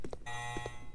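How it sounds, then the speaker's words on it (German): Electronic alarm ringing in the video game Resident Evil Code Veronica X, a sustained buzzing tone broken by a few quick beeps, heard alone and fairly quiet. "Hier ist wieder ein Alarm."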